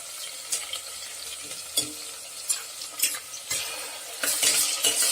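Ginger garlic paste sautéing in a pan for vegetable biryani, with a steady close sizzle broken by several sharp scraping stirs, growing louder and busier toward the end.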